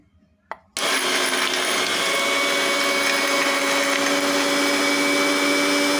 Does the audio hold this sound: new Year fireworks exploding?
no